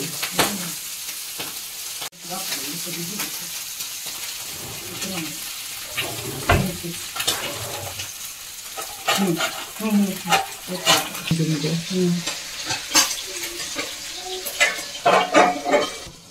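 Small tangra fish frying in hot oil in a pan, a continuous sizzle broken by repeated scraping stirs of a utensil against the pan, close and fairly loud throughout.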